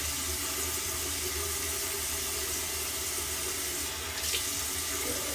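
Steady running water from a tap soaks a Brazilian deep wave human hair wig, a loud continuous splashing rush with no pauses throughout.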